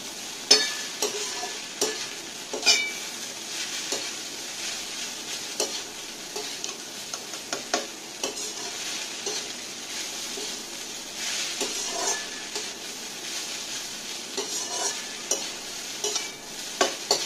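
Flattened rice is stirred and tossed in a lightly oiled pan, giving a soft continuous sizzle broken by repeated scraping knocks of the spoon against the metal, close and without voices.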